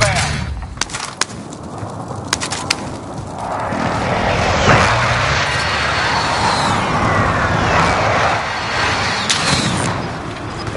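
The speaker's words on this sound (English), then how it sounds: "friendly precision airstrike inbound" A precision airstrike jet in a battle royale video game, its broad engine roar building in and sustaining loudly for several seconds, with scattered sharp clicks and pops early on.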